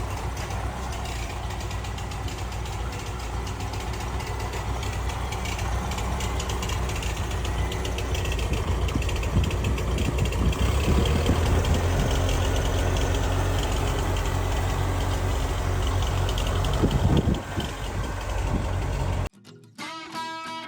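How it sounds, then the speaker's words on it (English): A rebuilt 1959 Massey Ferguson tractor engine runs at a steady idle, a continuous low mechanical rumble with faint rattling heard close by, with no talk over it. "I'll show you the engine running"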